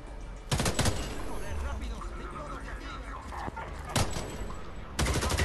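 Gunfire erupts in a shootout in the video game Homefront, with loud bursts of rapid shots at intervals over continuous combat noise while someone talks excitedly.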